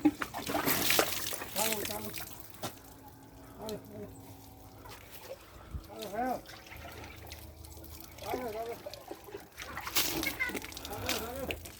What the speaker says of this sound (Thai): พี่น้องมะลินี่กินน้ำไม่ค่อยเหมือนใครเขานะครับ